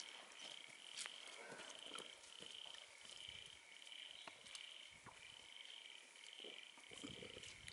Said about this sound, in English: Good to hear frogs.